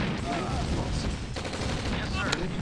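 In Command & Conquer: Red Alert, battle gunfire crackles as a dense fusillade of shots with a few sharper bangs. It is loud and continuous, and other game sounds mix in underneath.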